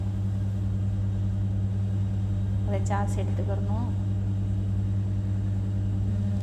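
A mixer grinder grinding salt and herb leaves into a sauce gives a loud, steady motor drone that runs unbroken throughout, with a brief voice speaking over it partway.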